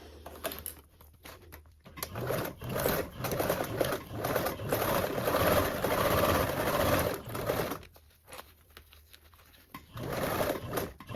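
Up close, a sewing machine bastes the lining of a fabric toiletry bag at a narrow 1/8 inch seam allowance, whirring in one long run with a short pause and then a brief second burst.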